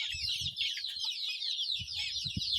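Free-range desi country roosters and hens cluck in short, soft bursts on a farm beside a canal, under a constant high chorus of insects or birds.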